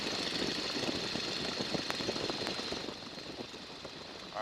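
Small airplane engine throttled back to reduced power in calm flight, a steady broadband drone with a strong whine, dropping slightly in level toward the end, continuous and close with no talk.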